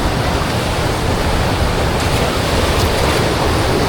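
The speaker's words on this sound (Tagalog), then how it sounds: "Puntahan natin mga par yung pinaka waterfalls" A waterfall roars close by, a loud, unbroken rush of falling water with no other sounds.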